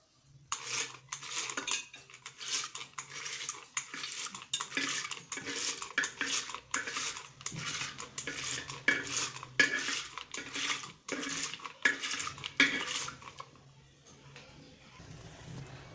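Rapid, rhythmic scraping and clinking of a metal utensil against a pot as cooked lentils are mashed for sambar, steady and close, then easing off near the end.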